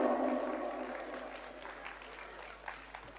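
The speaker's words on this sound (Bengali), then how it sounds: "একটা জোরে হাততালি হোক" An audience claps for an award being presented at a Bengali jatra folk-theatre felicitation. A burst of applause opens loud, then gradually thins and fades, with a few scattered claps near the end and some faint voices beneath.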